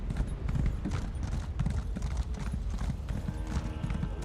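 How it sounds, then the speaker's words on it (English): Horse hooves clip-clopping in an Elder Scrolls video game as the mount travels near a gorge, a steady continuous rhythm of hoof falls over a low rumbling background. "Gonna let the horse go for a second."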